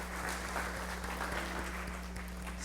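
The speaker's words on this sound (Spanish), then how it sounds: "Vamos a dar un aplauso a nuestro auditorio nacional y mundial." An audience applauds at a televised religious program, a steady, faint spread of clapping over a low electrical hum, with no talk.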